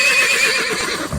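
A horse gives a single loud, close whinny, a shrill, wavering neigh that runs for about a second and drops into a short snort at the end.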